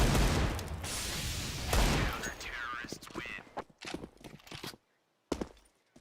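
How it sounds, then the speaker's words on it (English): Gunfire from a CS:GO match as a player shoots through smoke for cover fire: dense, loud bursts dominate the opening seconds, then scattered shorter shots and clicks, ending with a sudden quiet gap and a final sharp burst. "So just firing through smoke, creating some cover fire."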